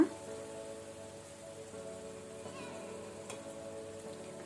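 Flattened rice (poha) is tipped into a hot pan of tempering with the flame off and stirred, giving a soft, steady sizzle and scraping, close and moderately quiet throughout.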